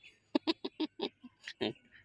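A bird in Davao City gives a rapid series of short, hoarse, chicken-like squawking calls, about eight bursts in quick succession, close and fairly loud in a quiet setting.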